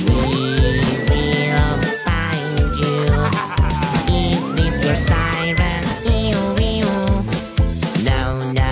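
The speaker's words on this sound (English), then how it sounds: "My police siren, help me please." A toy-like police siren wails in long rising and falling sweeps over a loud, busy children's song with steady beat and instruments, the siren sitting in the mix throughout.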